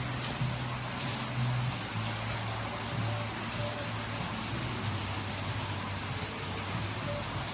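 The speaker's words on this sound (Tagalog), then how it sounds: "And umuulan. Diretso yung ulan." Steady rain pours down outside during a rainy day in the Philippines, a continuous even hiss with no letup, heard alone.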